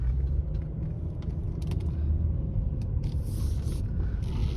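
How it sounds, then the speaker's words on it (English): Rear door lock actuator on a 2006 Mercedes-Benz E350 4Matic sedan makes a faint mechanical clicking and buzzing over the steady rumble of the idling engine, with brief bursts of high whirring toward the end. "as you can hear, it is definitely that rear door that the lock actuator is making noise"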